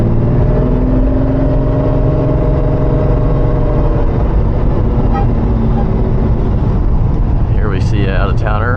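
A Lamborghini Diablo rumbles steadily through a residential area, its engine a loud, constant low drone heard from inside the car, with a brief higher whine near the end.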